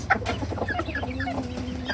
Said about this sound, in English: Now, these are the little hens.